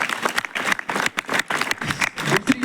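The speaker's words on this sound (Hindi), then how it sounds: "एक बार उसके लिए तालियां बजा दीजिए।" An audience at a school gathering applauds a student, a dense, lively burst of many hands clapping together that stays loud and fairly close, with some faint voices mixed in.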